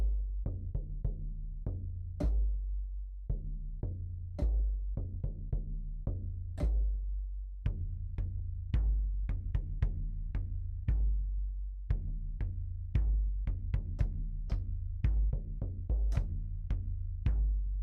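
A shaman drum from the Wavelet Audio EDDA sample library is struck in a loose, irregular pattern. Each hit is sharp and booming with a short decay, played alone and clearly up front.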